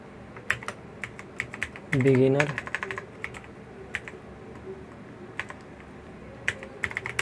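Typing a file name into Google Sheets on a computer keyboard, with scattered, irregular key clicks throughout and a brief burst of rapid keystrokes in the middle, close and crisp with no speech.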